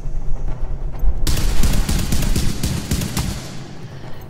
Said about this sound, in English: You see, the gun still works.